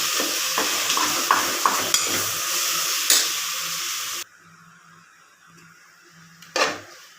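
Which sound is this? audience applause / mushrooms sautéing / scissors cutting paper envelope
mushrooms sautéing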